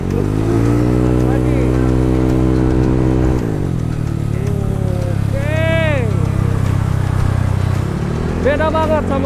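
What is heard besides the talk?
Honda ADV 150 scooter bored up to 180cc revving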